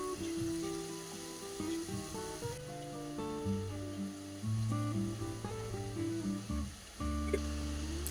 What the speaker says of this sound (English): Let them fry until they turn a perfect golden yellow, then scoop them out.